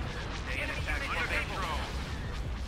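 Starship weapons in the Star Wars Empire at War Thrawn's Revenge mod fire in a steady, rumbling barrage of overlapping distant blasts, with speech running over it.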